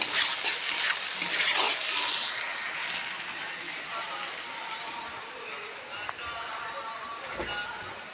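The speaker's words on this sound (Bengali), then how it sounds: "আলু ভাজাটা হয়ে যাচ্ছে অল্প আছে।" Potatoes frying in a pan, a loud hissing sizzle in the opening seconds that eases into softer bubbling with occasional stirring scrapes, while a person talks over it.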